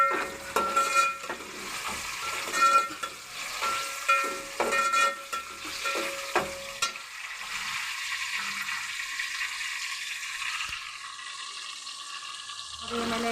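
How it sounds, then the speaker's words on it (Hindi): Tomatoes sizzle and crackle in a hot pan with potatoes, ginger and garlic, with scraping stirs and clatter, then settle into a steady frying hiss. "अब मैं इसमें टमाटर ऐड करूँगी"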